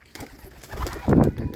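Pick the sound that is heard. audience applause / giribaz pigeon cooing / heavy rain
giribaz pigeon cooing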